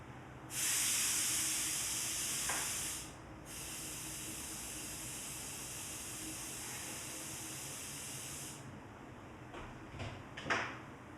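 An air compressor hisses loudly and steadily at an electronics workbench during an LED bulb repair, briefly dips, then cuts off near the end, leaving quiet room tone with a few faint clicks.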